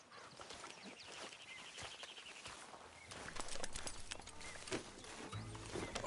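Horse hooves clip-clop at a walking pace in Red Dead Redemption 2, quiet and steady, with faint birdsong in the background.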